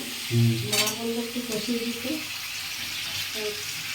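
Marinated chicken sizzles in a pan as it is sautéed and stirred. A voice talks over the cooking for much of the clip.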